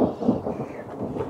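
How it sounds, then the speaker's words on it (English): Rolling rumble of thunder during a Wyoming storm, continuous and fairly loud low-frequency roar that swells and fades over a second, heard from inside a tent with no talk. "The thunder."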